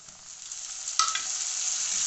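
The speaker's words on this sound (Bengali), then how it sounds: "এখানে দেখো পেঁয়াজটা ভাজা হয়ে গেছে, এখন দিয়ে দেবো টমেটো" Onions frying in a pan hiss in a steady sizzle, with a brief louder burst of crackling as tomatoes drop in, then the sizzle continues evenly, close and fairly loud.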